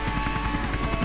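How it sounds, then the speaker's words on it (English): A police helicopter in Tony Hawk's Underground thumps close and loud, its rotor chopping in a fast, even rhythm over a steady engine drone, with no voices. "The chopper's just the icing!"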